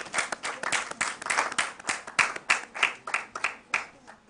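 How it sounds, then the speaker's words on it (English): Quiet applause for two competing schools on a student quiz show: a small group claps in sparse, fairly regular separate claps, each one distinct, fading slightly toward the end. "A round of applause to them both"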